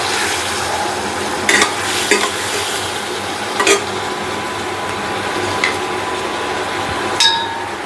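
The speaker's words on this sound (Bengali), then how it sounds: "এখন আমি তেলের মধ্যে দিয়ে দিচ্ছি পটলের মধ্যে।" Pointed gourd (potol) frying in hot oil with turmeric and spices, a steady close sizzle throughout with a few brief scraping stirs and clinks of a utensil against the pan, no talking.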